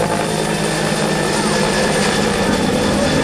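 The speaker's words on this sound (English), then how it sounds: "Notice again the main rotor system rotating counterclockwise" Loud, constant thumping roar of a military helicopter's main rotor close by, steady and unbroken with a low engine drone underneath, at a mass military helicopter departure.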